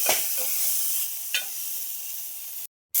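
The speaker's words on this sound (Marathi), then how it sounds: "मम्मी आता फोडणीलाच टाकून दिलेली कोथंबीर" Fresh coriander leaves dropped into hot tempering oil for Khandeshi kadhi, a bright crackling sizzle with a couple of sharp stirring scrapes, fading to a softer fry before cutting to silence near the end.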